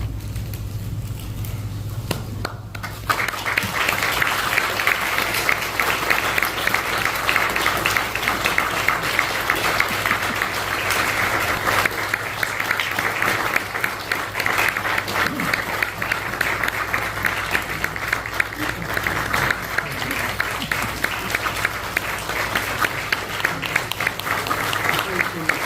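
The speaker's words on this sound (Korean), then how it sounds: "다시 한번 뜨겁게 박수로 맞겠습니다" A church congregation applauds warmly at a pastors' retirement and installation thanksgiving service, sustained clapping filling the room for over twenty seconds after a brief quieter start, with a low hum underneath.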